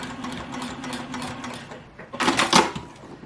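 Ricoma EM101 embroidery machine stitching a placemat pouch closed, a quick rhythmic run of needle clatter with a low motor hum, building to a louder burst of stitching near the end.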